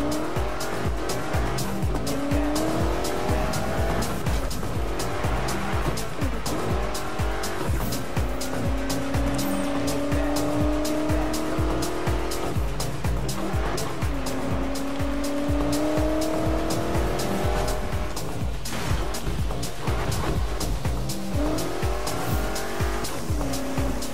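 A 1969 Ford Mustang Boss 302 in the Need for Speed racing game roars loudly and without a break, its engine pitch climbing through repeated gear changes, with recurring tire squeals under the engine note.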